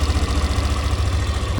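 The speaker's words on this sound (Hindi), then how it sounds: "और इंजन का साउंड सुन लीजिए" A motorcycle engine idles nearby with a steady, low, rapid chugging pulse and no voices.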